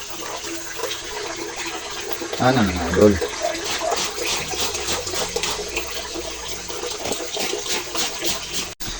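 Water sloshes and splashes while laundry is washed by hand, a continuous wet churning with a louder burst of splashing, as someone talks casually over it.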